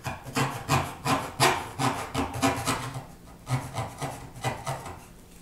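Steady back-and-forth hand sawing through PVC pipe, about a dozen even strokes with a raspy rhythmic scrape, close up and alone.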